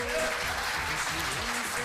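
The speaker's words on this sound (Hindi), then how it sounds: "ताली जोरदार वाली बजाइए" An audience claps, a dense and steady wash of applause at an indoor business gathering that fills the short moment without a break.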